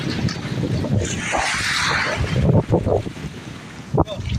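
Large waves slosh and slap against a boat hull laden with coconut lumber amid gusty wind buffeting the microphone, with a few sharper splashes near the end.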